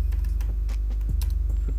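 A computer keyboard clacks in a quick run of close, distinct keystrokes as a card title is typed, over a loud steady low hum.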